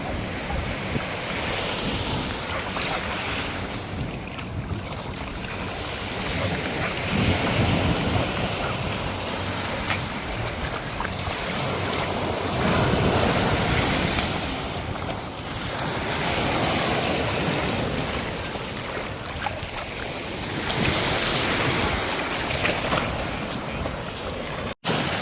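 Ocean surf rolls steadily onto a dog-friendly beach at Honeymoon Island, Dunedin, Florida, with waves swelling and breaking in slow repeating surges under constant wind noise on the microphone.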